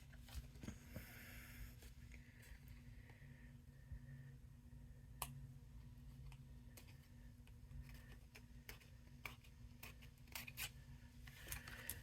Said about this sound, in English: I'm gonna snip that out.